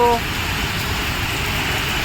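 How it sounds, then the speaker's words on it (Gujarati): Steady, dense hiss of heavy rain in Ahmedabad fills the whole stretch, a constant broadband wash with no pauses, fairly loud and close. "જબરજસ્ત વરસાદ પડે છે"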